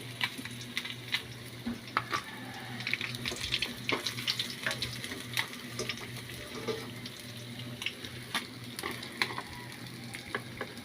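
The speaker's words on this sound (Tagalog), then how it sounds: "Luto na yung aking pinipritong isda. Magsasalang ulit tayo ng panibago." Fish frying in a pan, a continuous soft sizzle with scattered crackles and pops throughout, fairly quiet and close, with no talking.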